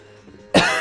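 A single sudden cough bursts out loudly and close after a quiet moment with a faint background hum.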